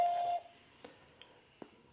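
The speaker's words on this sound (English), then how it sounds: "Please leave a message after the beep" A single short, clear electronic tone sounds at the start of a voicemail on a customer service phone line, followed by near silence with a few faint clicks.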